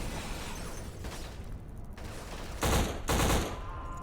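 Automatic gunfire rattles in the video game Black on a Veblensk city street, with steady bursts of shooting and two louder blasts near the end, no talk.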